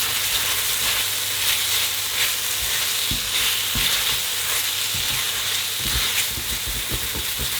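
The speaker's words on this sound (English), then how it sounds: "just like a risotto, you want to fry the rice for at least a minute or so before putting in the stock" Rice fries on high heat in a paella pan for a Valencian paella, giving a steady close sizzle with occasional stirring scrapes and clicks throughout.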